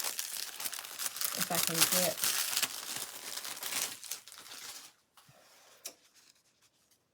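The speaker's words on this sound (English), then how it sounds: "The hardest part about using these tissues is pulling them apart, because you need to pull off the back layer" Thin tissue paper crinkles and tears as its layers are pulled apart for a wooden earring craft project, a busy rustling stretch that thins out into a few faint crackles, with a voice speaking briefly over it.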